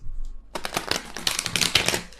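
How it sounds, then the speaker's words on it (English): A deck of tarot cards is shuffled by hand: after a brief quiet start, a rapid run of crisp, clicking flutters rises and continues up close, dense and slightly uneven, with no talking. "I try to shuffle these cards like a normal person"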